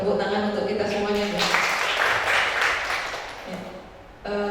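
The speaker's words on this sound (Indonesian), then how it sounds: "Tepuk tangan untuk kita semuanya" An indoor audience at a school gathering claps together in a dense burst of applause lasting a few seconds, with speech heard before and after it.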